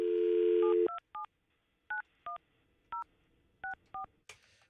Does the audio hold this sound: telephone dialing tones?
yes